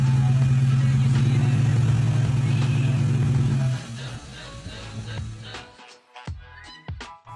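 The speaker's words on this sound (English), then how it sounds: "I held the car on the brake and built the revs up with the engine in gear" A 1998 Ford Mustang GT V8 held on the brake and revved in gear: a loud, steady droning engine note for several seconds, then it drops away, leaving lighter clatter and a few sharp knocks.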